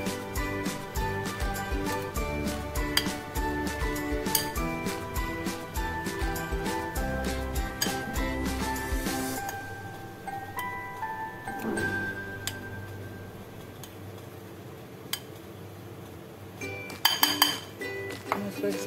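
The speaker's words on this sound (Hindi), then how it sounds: "ये सारी चीज़ें हमें डाल के बोल में, और इसको हम स्पून की सहायता से इसको मिला लेंगे।" A spoon clinks rapidly against a bowl while chilli powder, chopped green chilli and spices are mixed for chana dal paratha filling, a steady run of close metallic taps that thins out midway, then a brief louder clatter near the end.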